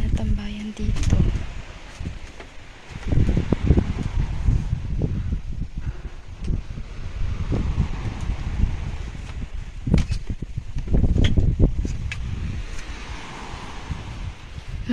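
Gusty wind rumbles and buffets the microphone in surges, loud at times, while a person talks intermittently over it.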